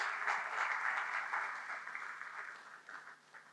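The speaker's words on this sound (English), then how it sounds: "Will it be too much if I ask that we give him a more resounding round of applause?" A meeting audience gives a sustained round of applause, dense clapping from many hands at moderate distance that tapers off slightly toward the end, with no clear talking over it.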